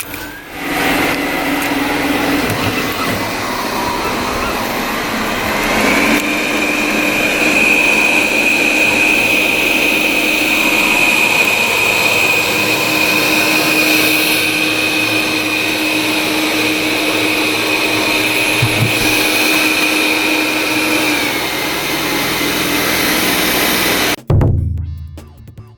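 A Ridestow R1 robot vacuum cleaner runs close by with a loud, steady whirring drone and a high whine that holds for about twenty seconds before cutting off near the end.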